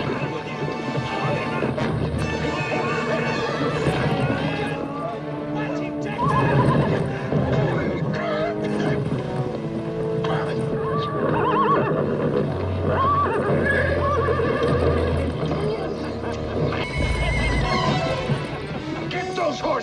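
Horses whinny and neigh repeatedly in a western film battle scene from The Wild Bunch, with hooves clattering, crashes and thuds, under a dense mix of shouting voices and music.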